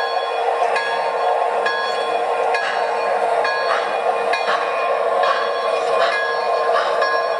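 An MTH Rail King 464 Hudson Streamline model train runs steadily, with a continuous mechanical whir overlaid by evenly spaced clicks and faint tonal ringing throughout, at moderate, constant loudness with no voices.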